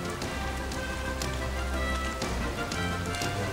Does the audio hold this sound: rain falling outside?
yes